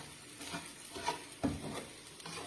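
Pansit noodles sizzling while stir-fried in a pan, a faint steady frying hiss with soft scraping stirs and one sharper clank, close by and quiet without any voices.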